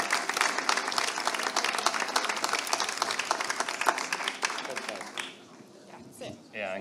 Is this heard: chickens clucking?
no